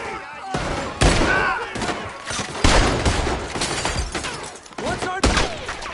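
Gunfire rips through a Red Dead Redemption 2 shootout, loud repeated shots in quick irregular bursts, with voices shouting over the fusillade.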